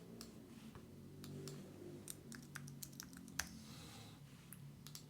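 Keystrokes on a computer keyboard tap out in quick irregular bursts mixed with mouse clicks, faint and close, with a low room hum underneath and no one speaking.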